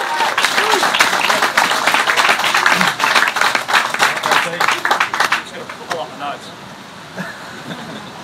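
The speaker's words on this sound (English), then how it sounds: "Round of applause." Audience applauding a panel member on stage at a stand-up paddleboarding community event, loud dense clapping for about five seconds that thins out and fades, with a few scattered claps and background noise after.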